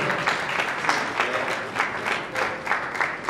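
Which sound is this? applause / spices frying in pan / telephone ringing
applause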